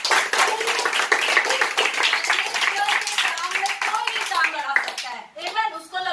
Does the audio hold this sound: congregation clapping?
yes